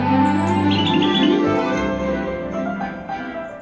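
Garden birds feeding give light chirps and tweets over a steady, fairly loud tonal background, with a brief high twittering flourish early on and no talk.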